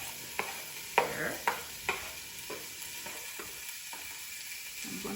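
Manchow soup ingredients with dark soy sauce are being sautéed in a pan, a low steady sizzle broken by several sharp clacks of a spatula stirring against the pan, with no talking.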